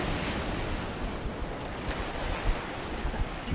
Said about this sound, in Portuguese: Olha a onda agora rodando.